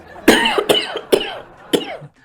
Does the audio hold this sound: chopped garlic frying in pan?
no